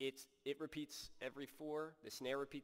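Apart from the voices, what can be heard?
No everyday noise stands out behind the speech.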